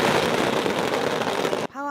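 Dense firecrackers burst nonstop at the Miaoli Lantern Festival dragon-bombing rite, a loud continuous crackle that cuts off abruptly near the end, followed by a brief voice.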